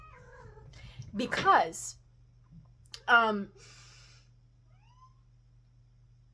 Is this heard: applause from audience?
no